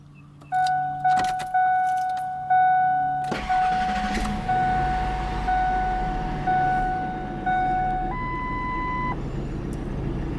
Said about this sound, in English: Starter sounds different than the old one.